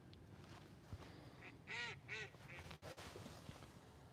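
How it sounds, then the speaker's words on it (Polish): Several quacks from ducks on a river at a fishing spot, a short cluster of calls fairly close over faint outdoor background noise, with no talking. "O, tu kaczki wyszły."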